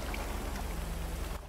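Steady rain patters down outdoors, a dense, even hiss of drops over a low hum that thins out abruptly near the end of the short stretch.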